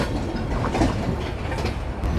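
Kapotaksha Express, a broad-gauge train, rolling out of Khulna on a curve, giving a steady, moderately loud rumble of coaches on rails with faint clatter throughout.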